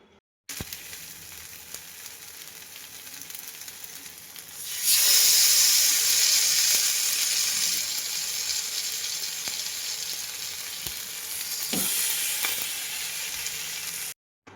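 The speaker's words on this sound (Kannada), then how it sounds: "ಫಿಶ್ ತವಾ ಫ್ರೈ ಎಲ್ಲನೂ ಕಲಸಿಟ್ಟಿದೆ ಸೊ ಇವಾಗ ತವಾ ಫ್ರೈಗೆ ಹಾಕಬೇಕು" Fish tawa fry sizzling in a pan, a steady hiss that jumps louder as the fish goes onto the hot surface and keeps crackling close and continuous without talk.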